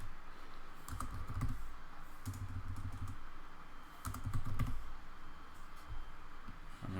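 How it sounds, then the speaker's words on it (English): Fingers typing on a computer keyboard in a few clustered bursts of close, clicky keystrokes separated by brief pauses, over a steady low background hum. "So you can see that as I'm typing"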